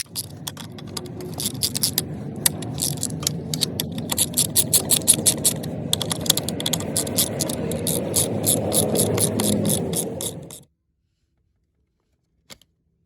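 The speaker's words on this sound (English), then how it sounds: "To remove this bracket, I'm going to use a 1/4 inch ratchet with a 5/16 socket." A 1/4 inch ratchet with a 5/16 socket works loose a power seat bracket on a GM truck or SUV, giving rapid clicking bursts over a steady low rumble for about ten seconds before cutting to silence.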